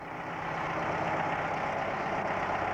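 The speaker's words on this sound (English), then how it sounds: "The special waterproof tractor was quite a surprise" A special waterproof tractor engine idles steadily on a beach by a lifeboat station, a continuous low mechanical rumble that holds at an even, fairly loud level throughout with no voices.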